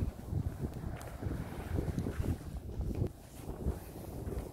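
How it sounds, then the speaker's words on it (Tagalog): Steady rush of wind buffeting the microphone with a low, rolling roar of sea waves underneath, continuous and fairly loud throughout. "maingay ang dagat"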